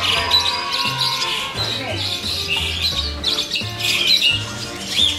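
A flock of birds released outside their aviary squawks and chirps continuously, loud and close, with harsh overlapping calls above a low rumbling background.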